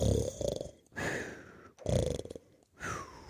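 A storyteller's voice imitates a priest snoring in a confessional: three or four slow, rasping inhale snores separated by short pauses, close and fairly loud.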